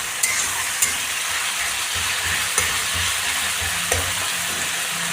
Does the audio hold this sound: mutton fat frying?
yes